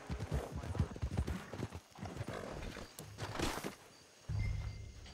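Horse hooves clip-clop at a steady, brisk pace in Red Dead Redemption 2 Online, the rhythm even and close. A low neigh sounds near the end while a game mix and some background noise run underneath.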